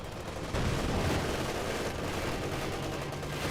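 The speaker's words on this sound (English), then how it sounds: "We do got Thompson's firing away." Thompson submachine guns fire in the WWII strategy game Company of Heroes 2, a dense, continuous battle din of rapid gunfire that swells sharply after a brief quieter opening and holds steady throughout.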